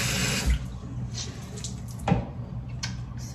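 A bathroom tap runs steadily into a sink for washing the face, with splashes and small drips close by and no talk.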